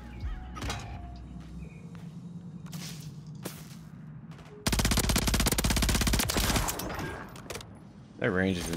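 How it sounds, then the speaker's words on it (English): SMG fire in the video game MW3 during a Search and Destroy match, first a few scattered shots, then a long, loud rapid-fire burst in the middle and a short final burst, with a voice talking between the shots. "That range is insane for an SMG."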